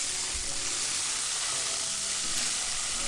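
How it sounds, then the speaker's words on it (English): Rice mixed with crab meat and chopped radish frying in a pan coated with mayonnaise, a steady, bright, hissing sizzle that stays loud and even throughout, heard alone without voices. "She heats a frying pan coated with mayonnaise rather than oil"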